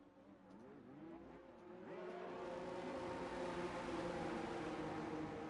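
A race car doing donuts at Imola during pre-season testing revs in rising and falling sweeps, then settles into a sustained loud, rough engine roar, with no talk.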